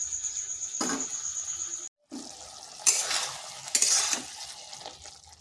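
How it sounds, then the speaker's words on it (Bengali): Kakrol and potatoes simmer in a pan with a little water, giving a soft steady bubbling sizzle with a few louder stirring scrapes and clinks near the middle and end, no talk. "এইভাবে কিছুক্ষণ এটাকে রান্না করে নিচ্ছি।"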